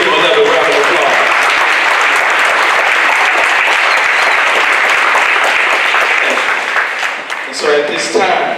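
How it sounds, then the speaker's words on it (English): Audience applause at an awards ceremony honoring a Man of the Year, sustained loud clapping from a full room that holds steady for several seconds before thinning and tapering near the end. "Let's give him another round of applause"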